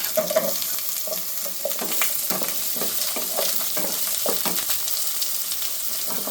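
Drumstick and white pumpkin pieces frying in a pan for Tirunelveli idi sambar, a continuous moderate sizzle broken by repeated stirring scrapes and taps, with no talking.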